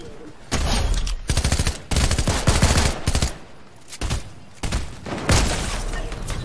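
Rapid automatic gunfire rattles in several long bursts during a video game shootout, loud and close with brief pauses between volleys.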